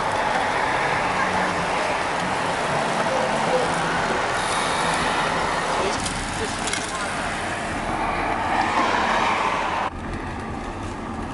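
Steady rain hisses over a broad wash of city traffic noise on a San Diego street, a continuous near roar with a slight dip toward the end and no clear talk.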